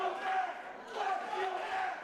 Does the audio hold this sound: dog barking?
no